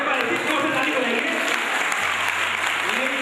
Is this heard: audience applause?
yes